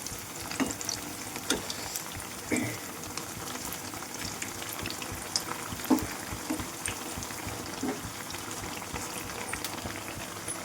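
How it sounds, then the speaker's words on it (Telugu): Potato bajjis deep-frying in hot oil, a steady dense bubbling sizzle with occasional soft pops and stirring clinks, close and continuous with no talking. "చూసారా, బజ్జీలు అనేది చాలా భలే పొంగిపోతున్నాయి."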